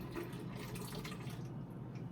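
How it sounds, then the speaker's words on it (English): Hot water poured into a cup for coffee in a home kitchen, a faint steady trickling wash of liquid that runs continuously without pause, with no voices. "So we've got our hot water in"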